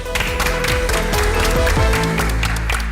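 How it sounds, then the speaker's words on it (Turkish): Audience applause, loud and sustained, with a dense wash of clapping from many hands throughout, and no talking. "günün galip takımı kırmızı takıma bir alkış istiyorum"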